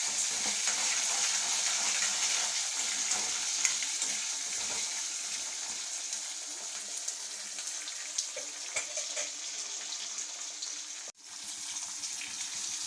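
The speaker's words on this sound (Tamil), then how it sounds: "தக்காளி, மிளகா எல்லாத்தையும் போட்டு கிண்டுங்க. நல்லா உப்புமா கிண்ட மாதிரி கிண்டுங்க." Tomatoes and chilies stir-fried in a pan for a Tamil vallarai keerai dish, a steady broad sizzle running throughout with faint scraping stirs and a brief dropout near the end, no voices.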